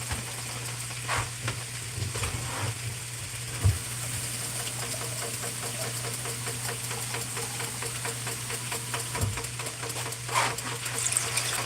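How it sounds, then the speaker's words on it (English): Water poured into a pan of ground beef and potatoes cooking for aloo qeema, a loud continuous sizzle and bubbling with occasional stirring scrapes and clinks, steady throughout. "I will add some water"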